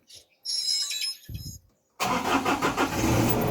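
A Mazda Fighter diesel engine cranks after an injection pump replacement, short bursts of starter whine giving way to a loud, rough clattering catch as it fires.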